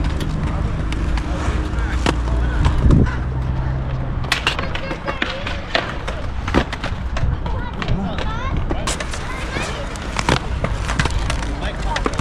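A skateboard rolls up a wall at a skatepark in Apex, North Carolina, with a steady, close rolling roar broken by several sharp clacks of the board hitting and landing.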